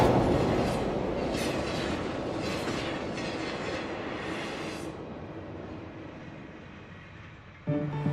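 London Underground tube train arriving at a platform at speed, a loud rushing roar with rhythmic wheel clatter and hissing that gradually fades as it slows, ending in a brief clunk.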